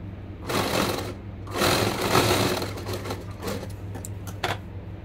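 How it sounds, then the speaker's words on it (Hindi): Sewing machine stitching velvet fabric for a small doll's winter pants, running in steady bursts of rapid needle chatter with a constant motor hum, close and moderately loud, briefly pausing between runs. "पहले हम एक साइड सिंगल फोल्ड करके टिच कर लेंगे।"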